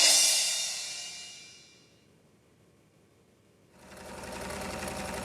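A household sewing machine runs in bursts, a fast mechanical whir that fades out, pauses in near silence, then starts up again close and steady, with no talking.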